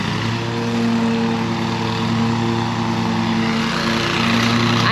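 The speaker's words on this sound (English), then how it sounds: "We got Tyler mowing" Lawn mower cutting grass on a work crew job, a steady loud engine drone with a constant hum running unbroken throughout, no talk over it.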